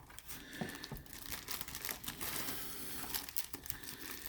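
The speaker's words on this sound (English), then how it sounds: "So we'll peel the one side of the tape off." Adhesive tape peeled away from a plastic blister pack holding a Yae Sakura Chinese dress figure, a close, continuous crinkling and tearing rustle with small crackles, no voices.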